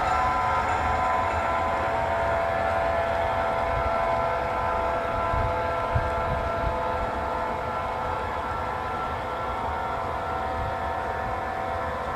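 A train rolls across Main Street in downtown Farnumville during local switching, a steady loud rumble of rail cars with sustained tonal ringing over it, continuous throughout.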